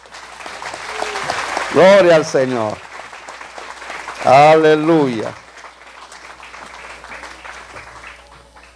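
A Christian wedding congregation applauds steadily throughout, a moderate continuous patter of many hands, while voices call out praise over it twice.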